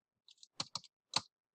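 A few quick, crisp clicks on a computer keyboard, loosely spaced and isolated against silence.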